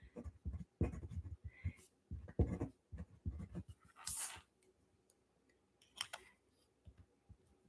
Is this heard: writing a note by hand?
yes